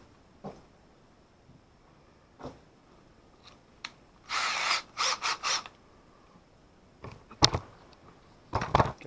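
Screws are driven in during repair work on a small tug boat, heard as several short bursts of a whirring power driver with ratcheting clicks, separated by quiet gaps, close by.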